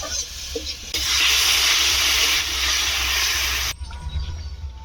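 Water poured into a hot pan of fried potatoes sets off a loud, rushing hiss of steam that holds for a few seconds before dropping back to a softer sizzle.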